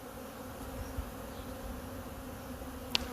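Honey bees hum steadily around a hive as field bees return, a continuous low drone with one brief sharp click near the end.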